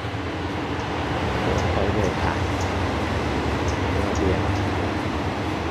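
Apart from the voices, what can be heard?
train passing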